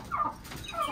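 Chickens, including a black hen, cluck close by in two short bursts of throaty calls, moderately loud with no talk.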